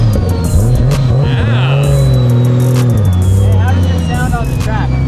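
A turbocharged car engine, running with boost raised, rises and falls in pitch through several revs, a loud throbbing drone heard up close alongside a faint high whine, with people talking over it.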